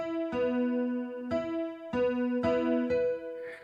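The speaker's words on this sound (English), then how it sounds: "I pick out a piano that's slightly detuned, like a honky-tonk style piano" Slightly out-of-tune honky-tonk piano playing a handful of chords, each struck with a bright, wavering ring that decays before the next.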